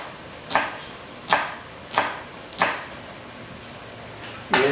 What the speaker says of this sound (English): Just roll your basil together like that and just cut it.